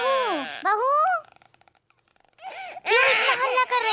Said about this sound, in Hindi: कब से बच्चा रोए जा रहा है